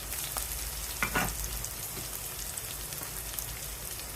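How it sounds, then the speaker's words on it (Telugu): Ginger garlic paste sizzling and frying steadily in a hot pan with onion pieces, a constant close hiss with a few brief stirring scrapes, no voices. "అల్లం వెల్లుల్లి పేస్ట్ వేస్తాను."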